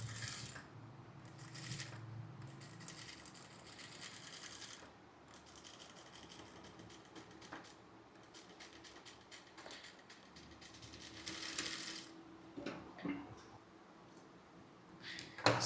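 A commercial sewing machine stitching cloth at 0.75 stitch length runs in quiet bursts of fast mechanical chatter with pauses between runs, joined by faint clicks and handling noises.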